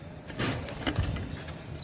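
Brief bursts of wings flapping near at hand, a couple of quick fluttering beats from a young Pakistani Rampuri pigeon over faint background noise.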